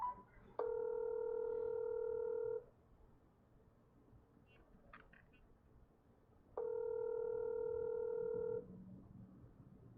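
Phone call ringing through a speakerphone: two long steady electronic ring tones a few seconds apart, with a brief faint beep between them over low background hiss.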